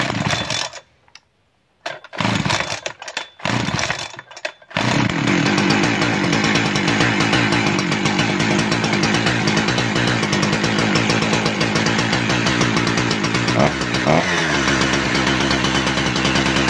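A chainsaw engine, freshly fitted with a new fuel pump diaphragm and throttle spring, is pulled a few times before catching and then running loud and steady, with a brief rev dip near the end.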